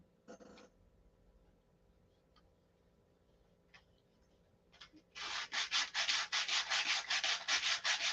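Hand sanding with 80-grit sandpaper on a model aircraft part, heard as steady, close back-and-forth scratchy rubbing strokes in a quick rhythm after a few faint scrapes and ticks.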